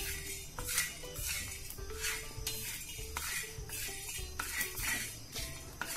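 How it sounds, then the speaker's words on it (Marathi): Whole spices for egg masala powder dry roasted in a pan, a spatula scraping and clinking against the metal in a steady rhythm, quiet and close with no talk. "आपल्याला हे पुन्हा सर्व साहित्य अगदी 1 मिनिटभर भाजून घ्यायचं आहे"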